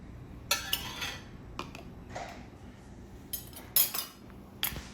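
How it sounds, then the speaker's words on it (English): Glass canning jars being filled with green beans for pressure canning, giving faint, close clinks and taps in scattered short bursts against a quiet background, with no talking. "You're just going to continue filling your jars with your green beans until you have all your jars filled."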